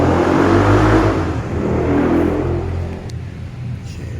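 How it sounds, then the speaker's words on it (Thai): Loud, continuous traffic noise of cars and engines swells and rumbles around five in the evening as people leave work, with a faint click near the end. "เสียงรถก็เริ่มดังแล้ว"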